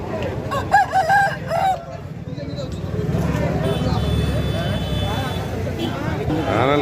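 Rooster crowing among native country chickens at a busy Sunday poultry market in Vijayawada. A few clear crows rise early on, then crowd chatter and market bustle continue throughout.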